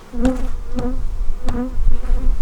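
Honey bees in an open, defensive hive during fall feeding buzz loudly and close by, a dense steady drone that swells in several brief pulses.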